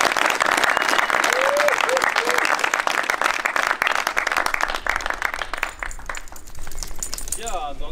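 An audience applauds at a disc golf tournament, the Schloss Sallgast Open MPO final round. Thick, sustained clapping from many hands fills the space, then thins near the end as voices come through.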